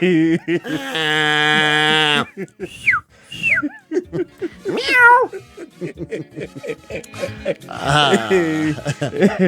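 A cat meows repeatedly, some calls long and drawn out and others short and rising, mixed with voice-like sounds in a quiet village setting.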